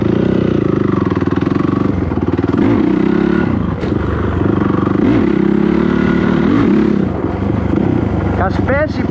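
A loud motorcycle engine roars and revs in surges during a wheelie, rising and falling in pitch, with clattering and a voice talking over it.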